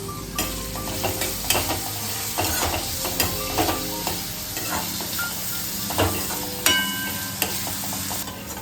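Chopped onion and green chilies sizzling steadily in a pan, with a constant frying hiss and repeated scraping stirs throughout, no talk.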